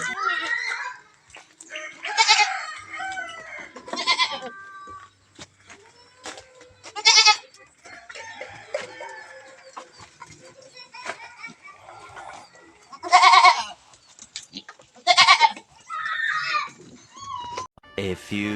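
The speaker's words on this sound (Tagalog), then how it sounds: "Tayo muna't mag-ula ng mga kambing." Goats bleat repeatedly while being herded out to graze, loud close calls breaking through stretches of people talking nearby.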